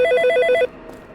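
A telephone in a horror video game rings with a loud, rapid electronic trill that repeats several times and then cuts off abruptly, leaving quiet background.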